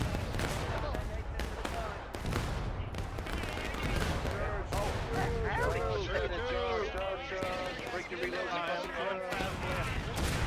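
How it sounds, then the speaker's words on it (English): Union artillery barrage in a Civil War video game: repeated heavy booms and scattered bursts of fire roll on through a busy battle, mixed with constant shouting voices and game chatter. "That's a nice Union Artie barrage there"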